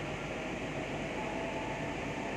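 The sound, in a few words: Kochi Metro train running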